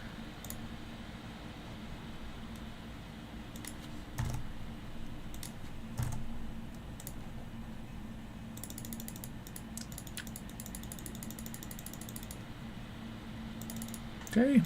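A computer mouse clicks sporadically, with sparse light taps spread out over a low room hum and a brief cluster of faster clicks near the end.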